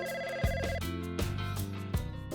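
A telephone ringtone chiming in repeated melodic bursts, rhythmic and moderately loud, sounding during an indoor conversation scene with no voices over it.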